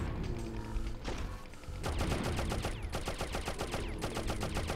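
Rapid bursts of gunfire in the video game Oddworld: Abe's Exoddus, a rattling volley of repeated shots in quick rhythmic succession, loud and close, with no talking.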